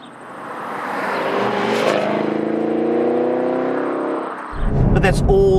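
A 2019 Chevrolet Camaro 2SS with its LT1 V8 climbs through the revs in one long, loud pull, engine note rising steadily for several seconds before a sharp burst of noise near the end.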